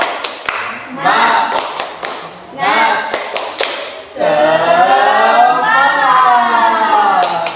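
Group of children doing the rhythmic 'tepuk semangat' clap routine, a handful of sharp close claps in short bursts alternating with loud chanting voices, then sustained group chanting.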